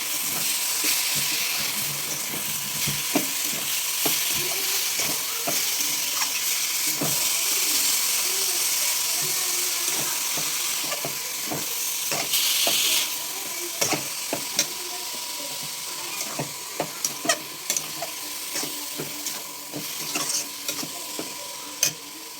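Grated coconut, jaggery and fennel seeds fry in a pan with a continuous sizzle, under repeated scraping and clacking strokes of a stirring utensil that turn sparser and more distinct near the end.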